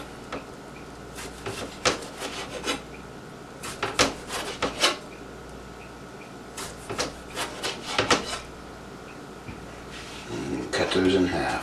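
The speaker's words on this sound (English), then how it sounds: "We're going to cut up some of this tomato." A knife slices a tomato on a wooden cutting board, giving repeated close scraping, rubbing strokes in uneven bursts while a person talks over them.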